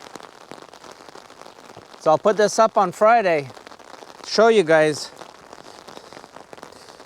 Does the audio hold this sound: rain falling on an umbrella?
yes